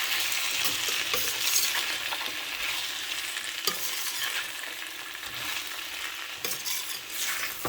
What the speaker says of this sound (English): So I have added all the veggies, and I'm gonna nicely saute this